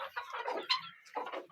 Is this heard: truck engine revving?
no